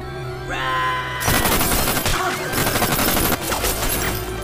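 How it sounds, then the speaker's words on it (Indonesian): A dense, loud burst of gunfire erupts from a film scene, a sustained fusillade of rapid shots following a brief quieter moment, with echoing cracks that continue to the end. "Luke tiba-tiba muncul dan langsung memberondongkan peluru ke arah Red"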